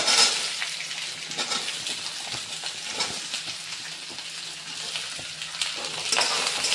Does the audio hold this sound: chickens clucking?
no